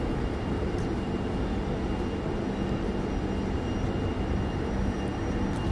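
A train rumbles at a railway station in the Czech Republic, a continuous, even, fairly loud roar of engine and rolling noise filling the whole stretch with no voices.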